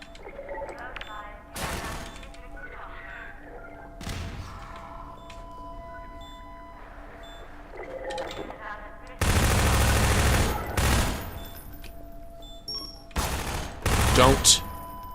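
Gunfire and grenade blasts in the video game Half-Life 2: scattered loud bursts and booms break up quieter game sounds, with two dense, heavy stretches near the end and a voice talking at times.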